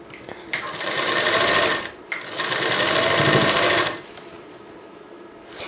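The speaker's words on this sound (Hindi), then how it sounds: "तो पहले मैं इस पर सिलाई लगा देती हूँ।" A sewing machine runs close and loud in two steady bursts with a short pause between them as it stitches the side seam of a back-hook blouse. Quiet room noise follows once it stops.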